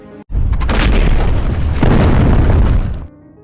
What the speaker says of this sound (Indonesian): Pertempuran dibuka dengan tembakan senapan anti-tank dari tentara Uni Soviet, dan tidak lama dibalas oleh tank tentara Jerman.